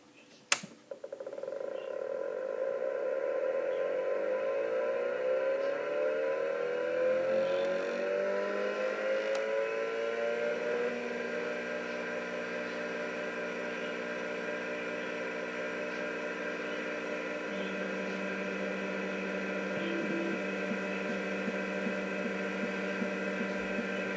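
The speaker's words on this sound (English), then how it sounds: "the incredible startup sound of a profile hard drive" An Apple ProFile hard drive for the Apple III spins up from a sharp click into a rising whine with climbing tones that settles into a steady, close hum with a faint low drone, no voices.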